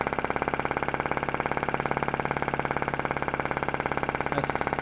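A PM Research solar (flame-licker) engine runs steadily with its flame lit while still warming up, giving a fast, even mechanical chuffing rhythm, close and continuous, with no talking.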